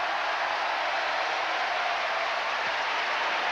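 Arena crowd at a 1990 college basketball game, North Carolina at Duke, cheering: a dense, steady roar of many voices that fills the space for several seconds without letting up.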